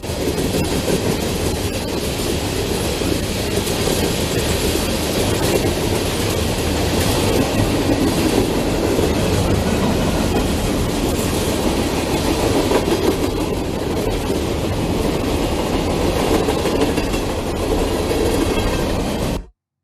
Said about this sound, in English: an AC-44 C6M, the common power of Norfolk Southern